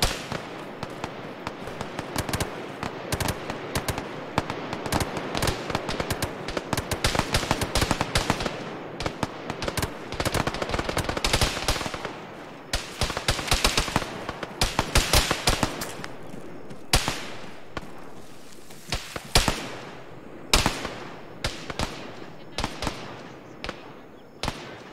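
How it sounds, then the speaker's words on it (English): Explosives are remotely detonated to clear trees in the military video game Arma 3. They sound like a long, rapid chain of sharp cracking blasts, dense at first and then thinning into scattered separate bangs. "Remote detonation happening on the west side of Alpha, clearing trees."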